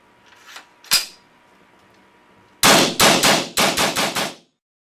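RAP4 Shogun paintball marker running on a remote air line fires a quick burst of about seven loud, crisp pops in close succession, after a couple of softer clicks from cocking and handling.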